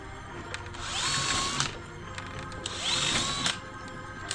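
A power drill drives screws into a bamboo-walled wooden shower frame in two whining bursts, each about a second and a half long, rising in pitch as it spins up and then stopping, close by with no talk.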